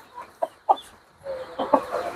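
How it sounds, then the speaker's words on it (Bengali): Large roosters kept on a family poultry farm cluck in a few short, separate calls, then make a louder, busier run of fowl sounds close by. No one speaks. "অনেক বড় বড় বড় রাতা।"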